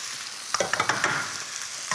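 Oiled risoni hits a hot pan with a soft sizzle, followed by a handful of light scraping stirs in quick succession, then a steady low crackle of frying.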